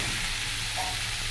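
Mixed vegetables, including taro, pumpkin and pumpkin stems, go into hot oil in a frying pan, giving a steady broad sizzle throughout, close and fairly loud, with no talking.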